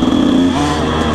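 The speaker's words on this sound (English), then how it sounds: "now he's on a 2015 KX85 two-stroke" A 2015 Kawasaki KX85 two-stroke dirt bike engine revs close by on a trail, a loud, buzzy, rising drone that holds steady through a brief moment.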